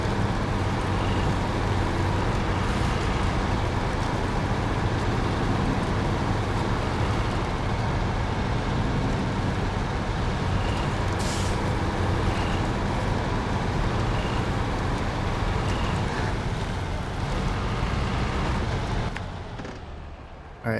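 A truck engine in the SnowRunner off-road driving game rumbles in a steady, loud, continuous drone with no speech, easing off slightly at the very end.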